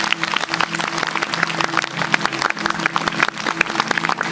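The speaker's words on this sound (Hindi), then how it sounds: "जोर से ताली बजाएंगे यीशु मसीह के लिए।" A church congregation at a Hindi-language sermon claps loudly and steadily, a dense, continuous wash of applause filling the space with a faint low hum beneath.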